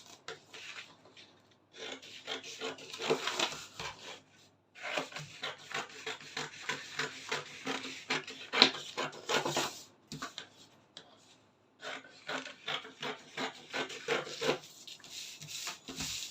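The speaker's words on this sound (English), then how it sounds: "First of all, I will cut the neckline." Scissors cutting along the neckline of a patterned shift gown fabric, a dry rasping, rubbing snip repeated in long bursts with short pauses between them, close and fairly quiet.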